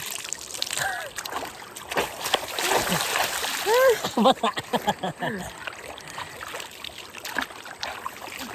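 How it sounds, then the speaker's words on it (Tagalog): Water splashing and sloshing in a river outdoors, with voices talking and calling over it in short bursts. "Sabigan mo ko tubig."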